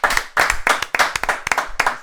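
A small audience claps in separate bursts, loud and near, at a podcast-style talk event welcoming a Brooklyn DJ, with brief gaps between rounds of hand claps.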